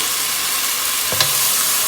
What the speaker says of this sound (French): je verse notre purée d'oignon, ail, gingembre